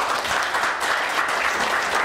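Audience applause at a startup weekend event, a full, loud wash of clapping from a room of people that stays even for about two seconds, with faint voices underneath.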